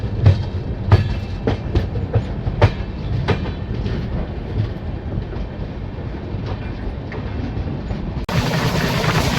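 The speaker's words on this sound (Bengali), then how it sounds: "প্রয়াগরাজ চিউকি জংশন থেকে ট্রেন ছাড়ার পর একটা বড় সড়ো কার্ভ নিয়ে ধীরে ধীরে ট্রেন মানিকপুর জংশনের দিকে এগোচ্ছে।" Passenger train on the Howrah–Agra route rolling slowly toward Manikpur Junction after a big curve, a steady loud rumble from inside the carriage with repeated clickety-clack wheel beats over the rail joints.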